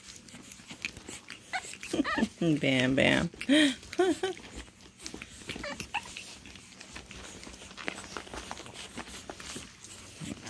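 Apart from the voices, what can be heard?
puppies playing tug of war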